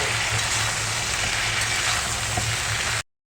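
Chopped bottle gourd leaves frying with salt in a pan as they are stirred, giving a steady close sizzle with faint scraping for about three seconds before it cuts off.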